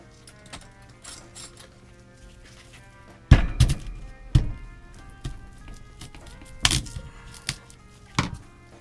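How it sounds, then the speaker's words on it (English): A screwdriver strikes the fibrous core of a whole house water filter cartridge, giving four or five dull, close knocks at irregular intervals over a quiet room. "let's hit it with a screwdriver."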